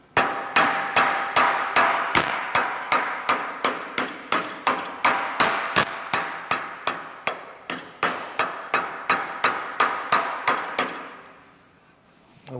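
Steady, rhythmic hammer blows ring out on metal, about two per second, sharp and close, continuing for several seconds before stopping.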